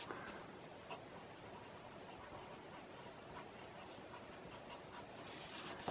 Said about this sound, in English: let me write template number 1 on here. I'll just do it in pencil.